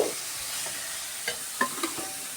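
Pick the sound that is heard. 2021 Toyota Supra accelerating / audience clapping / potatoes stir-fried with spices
potatoes stir-fried with spices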